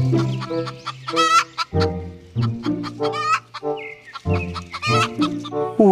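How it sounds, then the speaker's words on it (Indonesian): A hen clucks repeatedly and loudly at close range, giving a run of choppy, rising calls and squawks with brief pauses between them. "ini adalah ayam"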